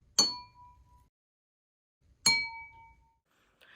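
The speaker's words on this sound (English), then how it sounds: "When you apply a force to the glass emits a sound at its resonant frequency." A drinking glass is struck twice, about two seconds apart, each strike giving a bright clear ring at its resonant pitch that decays over roughly a second, close and alone in a quiet room.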